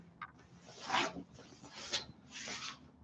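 A body sliding across a jiu jitsu mat during a kids' solo passing drill, three soft brushing rubs in slow succession, quiet and close, with no talking.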